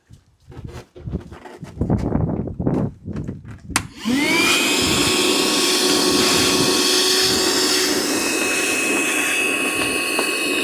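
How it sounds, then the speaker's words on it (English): A vacuum cleaner sucks dirt from under the battery tray of a Jeep JL during an auxiliary battery change, switching on after a few seconds of close handling noises and then running loud and steady with a high whine. "I'm going to see if I can just vacuum that out real quick."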